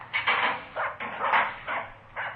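A dog barks several times in a row in a short series of rough woofs, close and fairly loud, with no other sound over it.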